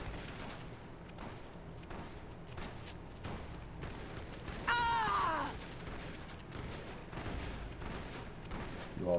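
Scattered gunfire in the Fallout New Vegas video game, a dense crackle of shots over a steady rumbling game background, with a brief mechanical whine partway through.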